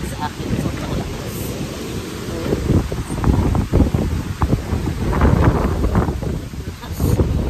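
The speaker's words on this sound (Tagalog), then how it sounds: "Sabi ko, bakit ang lakas ng hangin sa labas?" Strong wind blows at Umbrella Beach in Fujairah, roaring and buffeting the microphone in heavy, gusting rumbles with rustling surges throughout, loud and close.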